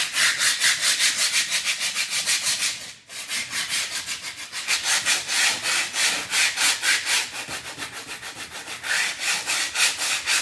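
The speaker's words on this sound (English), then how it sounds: "So I press the sandpaper nicely evenly on top of the raised stencil of Paris." Rhythmic back-and-forth rasping of 80-grit sandpaper rubbed over a raised stencil on a painted surface, loud and close, with one brief pause partway through and no voices.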